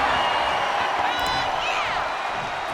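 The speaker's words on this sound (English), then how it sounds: "The crowd is loud here today." A wrestling arena crowd at a World Class Wrestling show roars steadily and loudly, with whoops and shrill cheers rising above the dense, continuous noise.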